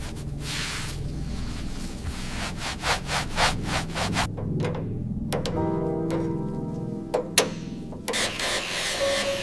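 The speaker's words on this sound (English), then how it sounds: "We wet sand the clear coat to knock down any flaws, followed by the heavy buffer." Clear coat on a Plymouth Hemi 'Cuda being wet sanded by hand gives close, rhythmic rubbing strokes in short bursts, with a few brief pauses and light knocks in between.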